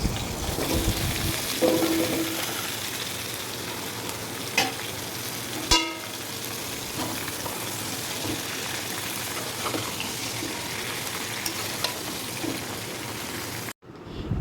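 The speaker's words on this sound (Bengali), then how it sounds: "দিয়ে সব সবজিগুলোকে দিয়ে একটু ভালো করে ভেজে নেবো" Mixed vegetables frying in hot oil with bay leaf and five-spice, a steady close sizzle running throughout with a few light utensil clinks and stirring scrapes.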